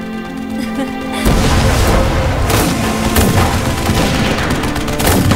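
A cannon fires in a Chinese action drama battle scene, a sudden loud boom followed by a sustained roar of repeated blasts and rumbling gunfire close up.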